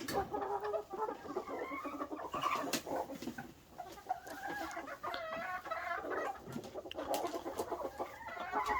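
Several chickens cluck and murmur continuously close by in a winter coop near the nesting boxes, with overlapping calls and occasional louder squawks in an enclosed space.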